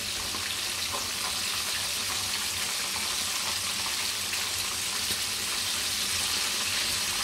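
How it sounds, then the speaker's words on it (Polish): Bone-in chicken deep frying in hot oil, a dense, even hiss of bubbling fat that holds at one level throughout, close and continuous with no voices. "kurczaka z kością powinniśmy smażyć do maksymalnie 10 minut na głębokim oleju"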